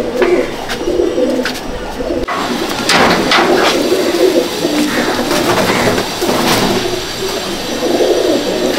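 Pigeons coo steadily in a loft at Kestopur, several birds overlapping in soft repeated bursts across the whole stretch, close and fairly loud, with faint background clatter.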